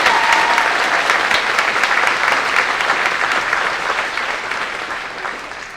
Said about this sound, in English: So let's give you guys a round of applause as a thank you for giving us here.